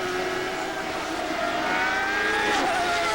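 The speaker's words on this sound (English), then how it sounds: "Listen to Arie as he accelerates up the hill now." A race car engine revs and climbs in pitch as it accelerates, a loud, whining roar building steadily.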